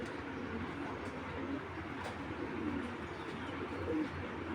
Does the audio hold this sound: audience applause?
no